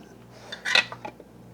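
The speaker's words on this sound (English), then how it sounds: "now I can put the lids on" Metal lids clinking and clattering onto glass jars of wild Alaskan salmon being readied for canning, a brief cluster of close, bright contacts.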